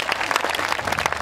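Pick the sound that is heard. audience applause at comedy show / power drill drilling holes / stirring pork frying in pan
audience applause at comedy show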